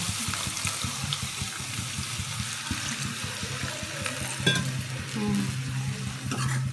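Water pours steadily into a hot pan of dried fish curry base, a continuous close gush with sizzling and stirring underneath, loud and alone without talk.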